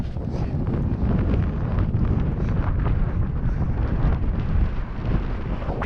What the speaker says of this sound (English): But yeah, the wind has picked up